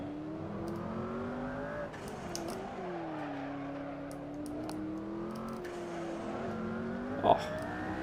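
Road car built by a Formula 1 team, lapping the Barcelona circuit, its engine revving steadily up and down through gears, with a sharp wastegate blow-off puff near the end.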